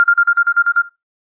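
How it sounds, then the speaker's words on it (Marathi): A mobile phone rings loudly in a horror-story setting: eight quick, evenly spaced electronic tone pulses in under a second, then sudden silence. "2:17 मोबाईल जोरात वाजला."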